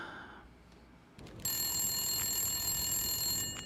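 A telephone rings inside an office in the video game The Long Dark, a bright electronic ring cutting in abruptly after a quiet start and sustaining loudly, with a few faint knocks around it.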